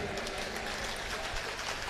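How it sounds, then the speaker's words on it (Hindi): Applause from an audience at a Hindi comic poetry gathering, a dense steady crackle of many clapping hands that holds at an even level throughout, with no distinct voices above it. "एक बार जोरदार तालियां बजाइए"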